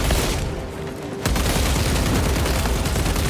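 Sustained bursts of gunfire and booms from a battle in the video game Warhammer 40K Space Marine 2, loud and continuous after a short lull.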